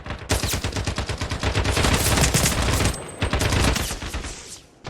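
Rapid bursts of automatic gunfire from the Turkish video game Sabotaj, loud and close, with dense overlapping shots running nearly the whole time and a brief pause near the end.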